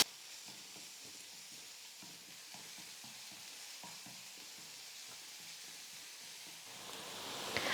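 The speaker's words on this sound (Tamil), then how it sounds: "வெங்காயம் நல்லா வதங்கி வந்துருச்சு." Onion fries in a pan with mustard seeds, red chillies and curry leaves, a soft, steady sizzle with faint intermittent stirring clicks, fairly quiet and close, with no talk.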